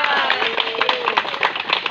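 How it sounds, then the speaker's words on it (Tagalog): Applause from a ribbon-cutting audience thanking a councilor, a dense patter of close claps with voices talking over it throughout. "Palakpak po pinagana."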